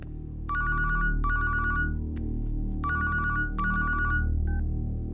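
An outgoing phone call rings back with repeated electronic ringtone bursts in pairs, separated by short pauses, clear and alone over a faint low background hum.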